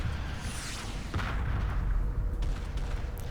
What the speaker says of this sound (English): We're actually moving the destroyer up now to engage all those turrets to pop them.